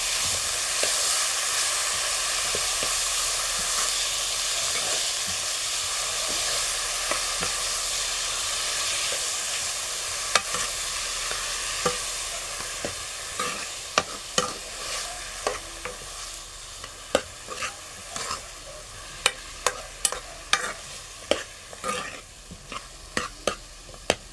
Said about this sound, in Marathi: कांदा टोमॅटो ते आपण परतून घेऊ